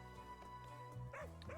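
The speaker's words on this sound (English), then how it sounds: "Got a big bark for a puppy." Puppy in a video game giving quick, deep-toned barks and yips, fairly faint over a constant tonal game background hum.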